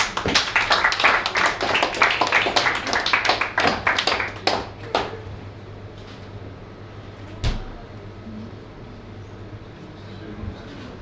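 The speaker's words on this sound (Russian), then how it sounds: "Ваши аплодисменты." An audience in a club gives a burst of dense, lively applause for about five seconds that then dies away, leaving room tone and a couple of isolated knocks.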